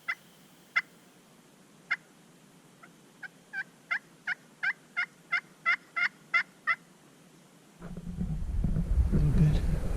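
A wild turkey gobbles in a spring woodland, first a few isolated calls, then a quicker run of about ten evenly spaced calls, all fairly distant, followed by rising wind rumble against the microphone.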